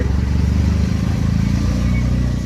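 Auto rickshaw riding through rainy traffic on the way to Uran, a close steady rattling engine drone with a constant rumble throughout.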